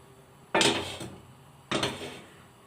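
A metal frying pan is handled on a kitchen counter while cooking oil is added for a spinach quiche filling, two sharp clanks about a second apart, each ringing briefly and fading, close by with no talk.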